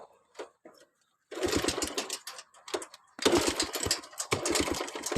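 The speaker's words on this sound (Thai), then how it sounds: "ลองฟังเสียงเครื่องดูนะครับ" A motorcycle engine of a little over 100 cc starts up and runs with a rapid, rattling idle, coming in two loud bursts separated by a short pause, with a few faint clicks before it catches.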